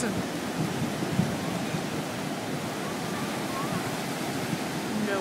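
Ocean waves break at Bryan Beach, Texas, a steady broadband roar of surf that continues throughout, with a faint voice at times.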